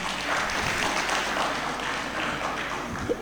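Applause from a crowd at an awards gathering in a Hilton hall, a dense continuous patter of many hands at moderate volume, steady throughout with no clear speech over it.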